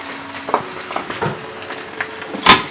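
Garlic sizzling in hot oil in a pan while making lemon pickle, a quiet crackle punctuated by a few sharp pops and stirring clicks, the loudest pop near the end.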